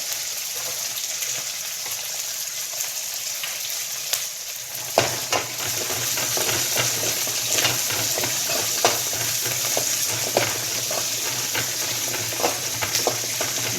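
About eight dried red chilies fry in a pan, starting as a soft background hiss that jumps to a loud, dense, crackling sizzle midway, with occasional sharp pops and stirring clatter.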